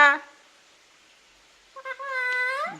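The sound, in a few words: parrot imitating a cat meow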